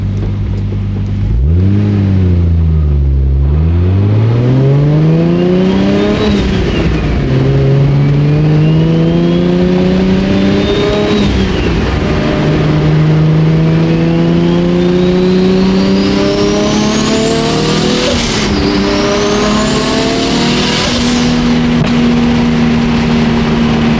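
A 1999 Nissan R34 GTR V-spec revs on a Los Angeles street, its engine note climbing and falling in repeated loud pulls with rising whine, close and unbroken for over twenty seconds.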